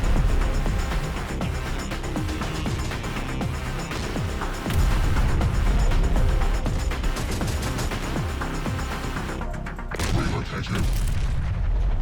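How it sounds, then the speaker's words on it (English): Heavy 155 artillery shells pound a base in the video game Terminator Dark Fate Defiance, a dense barrage of booms and gunfire rumbling continuously with a louder burst of impacts near the end. "we're going to use the 155s to crack this base"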